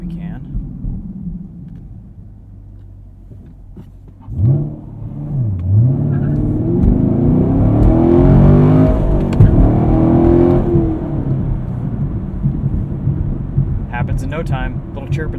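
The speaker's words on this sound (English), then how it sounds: "Let's do a little 0 to 60 here while we can." A 2018 Chevrolet Camaro 2SS with a six-speed manual, Hot Wheels 50th Anniversary edition, launches hard from a steady idle rumble into a loud, climbing V8 roar that peaks and dips at a gear change, heard from inside the cabin.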